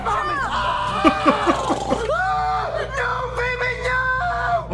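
A child screams loudly and continuously in a comedy puppet skit, with wavering, rising and falling shrieks and cries held over several seconds close to the listener.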